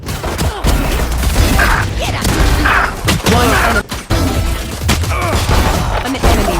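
Rapid pistol gunfire in a competitive esports video game at a college championship: dense, loud bursts of shots with booming thuds and mechanical clicks, almost continuous throughout.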